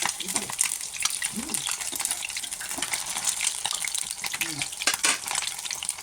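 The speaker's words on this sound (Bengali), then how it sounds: "দেখুন, মাছগুলো আমার এইভাবে হালকা হালকা করে ভেজে তুলে নিচ্ছি।" Pieces of chital fish lightly frying in oil in a pan, with steady crackling sizzle and occasional clinks of a utensil stirring, continuous and fairly close.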